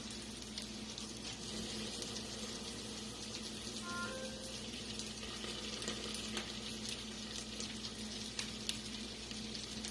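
Soup bean patties fry in bacon grease in a pan, giving a steady close sizzle and crackle with scattered pops and spits, alone without talk.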